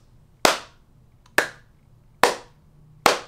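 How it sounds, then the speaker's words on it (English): Four sharp, loud hand claps spaced roughly a second apart in a small room treated with acoustic panels, each with a short decaying tail and no talking. "So let's do the clap test."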